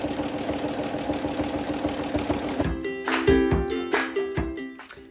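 A sewing machine hums and stitches rapidly during free-motion quilting of a brick pattern, a dense close chatter that then breaks into uneven short bursts and pauses.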